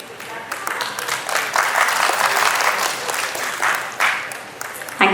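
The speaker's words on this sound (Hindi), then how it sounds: "एक बार तालियों के साथ हम सभी मंच पर उनका ऑनर करना चाहेंगे" An audience at a ceremony applauds to honor a guest on stage, with clapping building to a full, sustained round that swells and fades slightly before a final burst near the end.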